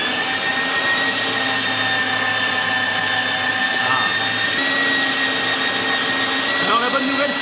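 Meat grinder running steadily, grinding Big Mac into sausage filling, a continuous motor whine with a faint shift in pitch as the load changes, close and unbroken.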